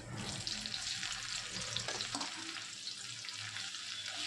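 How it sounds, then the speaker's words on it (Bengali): Chopped onion frying in a pan with dried red chillies for laal saag, a soft, steady sizzle with light stirring, faint and continuous, no talking. "পেঁয়াজটাকে একটু হালকা করে ভেজে নেব"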